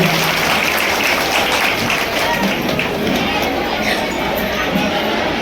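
Sustained applause from a crowd honouring a guest at an Adivasi Day ceremony in Khalapur, a dense steady roar of many hands clapping at close range, with voices mixed in throughout.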